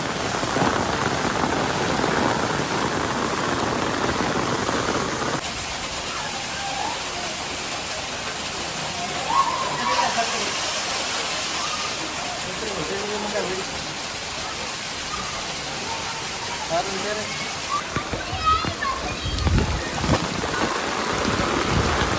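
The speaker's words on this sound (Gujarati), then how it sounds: "ફૂલ વરસાદ આવી રહ્યો" Heavy monsoon rain pours down in Morbi, Gujarat, a steady dense hiss that continues throughout, with scattered voices and other background sounds mixed in.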